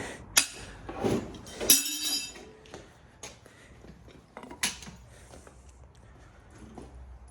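Heavy copper radiator pipes are struck by hand, giving a few sharp metallic clinks and knocks at uneven intervals, close by, with a quieter rattle between hits.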